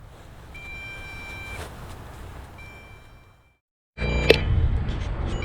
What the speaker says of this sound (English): the controller is beeping and the aircraft is beeping too